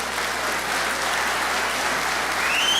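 Audience at a special town meeting breaking into loud, sustained applause, a thick uniform roar of many hands clapping that holds steady from start to finish with no talking over it.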